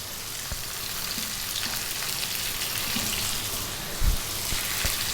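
Sliced bell pepper and small zucchini frying in a pan for vegetable pasta, a steady, dense sizzle with soft crackles and a couple of low knocks from the pan being stirred, no talking.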